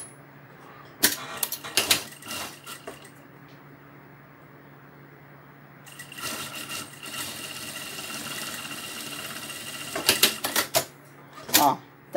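A sewing machine with a zipper foot stitches a zipper onto a fabric vaccination-card cover. It runs in several short bursts of rapid mechanical clatter, separated by quiet pauses.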